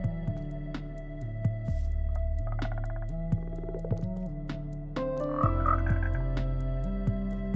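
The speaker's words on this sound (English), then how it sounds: "Players wanted frogs for years, and now they finally got it." Frogs in the Minecraft video game croak in a steady series of synthetic, tonal calls, clear and close with no talking.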